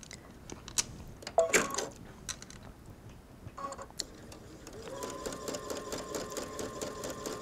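A sewing machine stitching embroidery couture lace trim onto a jacket edge, with scattered clicks and handling taps at first, then a steady faint run of rapid stitching near the end.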